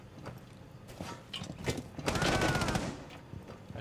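Rapid burst of gunfire from a Rainbow Six Siege firefight, loud and close, clustering in the middle of the moment amid game noise and scattered sharper cracks, with a voice talking over it.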